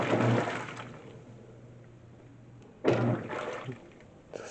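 A GE washing machine on its towels/sheets cycle fills its tub with foamy water: two surges of rushing, splashing water, near and fairly loud, with a steady low hum between them.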